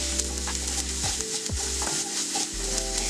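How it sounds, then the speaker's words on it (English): Chopped onion sautés in a little oil in a warm pan, with a steady close sizzle. A utensil stirs it in several scraping strokes, and no one speaks. "add in the chopped onion and sauté until soft and golden"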